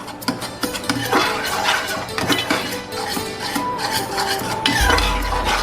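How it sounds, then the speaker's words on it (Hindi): A spoon keeps stirring a thick, sweet milk-based dessert mixture in a pan, making continuous scraping and clinking strokes at close range with an even, busy rhythm and no talking. "आपने मुसलसल चम्मच हिलाते जाना है।"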